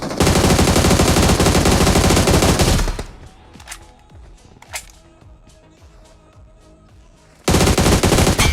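Gunfire in the BGMI battle royale game: a loud sustained automatic burst, then a quieter stretch of sharp scattered shots and echoing cracks, then another dense burst at the end.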